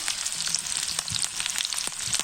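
Onion, ginger, garlic and a few curry leaves fry in hot oil for spicy puri sabji, giving a steady close sizzle with dense crackling and spitting pops throughout and no voices.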